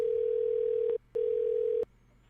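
Steady telephone dial tone in two long bursts separated by a short gap, then cut off to near silence, clean and close with no talking.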